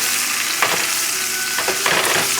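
Nearly two pounds of oxtail browning in a pan over a moderate flame sizzle and crackle steadily and up close, with a few louder spits and stirring bursts rising over the constant frying hiss.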